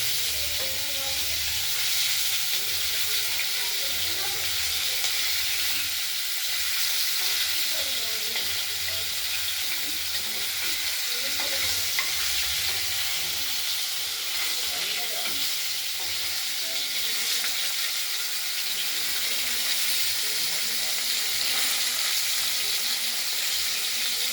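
Ingredients for a katla fish curry, including egg and coriander leaves, fry in a pan with a steady, close hiss and sizzle. Faint stirring scrapes come through under the sound for the whole stretch.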